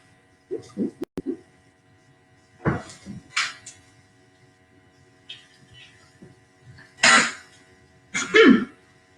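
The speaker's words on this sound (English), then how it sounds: "That was a rum cough, not a corona cough." A few scattered coughs and throat-clearing bursts, close and fairly loud, separated by quiet gaps with a faint background hum.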